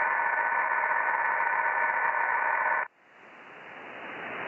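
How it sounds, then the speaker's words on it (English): A 1.25m or 6m amateur radio receiver hisses with loud, steady white noise carrying a faint ringing tone. The noise cuts off abruptly partway through, leaving a quieter hiss that slowly builds back up. "Just sounds like white noise with a little ringing to it."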